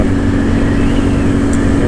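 A Honda CRF300L Rally dirt bike with electric start and rally protective gear, ridden on a test ride. Its engine drones loudly and continuously up close, a steady throaty hum with no talk.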